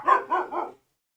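Three quick, close barks from a house dog come in an even rhythm, the last one softer, followed by silence.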